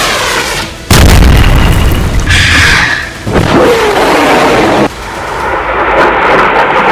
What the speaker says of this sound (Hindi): इजराइल का ये डिफेंस सिस्टम फौरन एक्टिव हुआ और उसने हुथी की बैलिस्टिक मिसाइल को मार